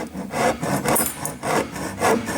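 A hand saw rasps through wood in steady back-and-forth strokes, about five strokes, close up with no talking.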